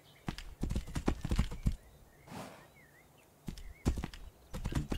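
Horse hooves clip-clop in bursts in Tainted Grail: The Fall of Avalon, clear and close, with a pause midway and a soft whinny-like call between the steps.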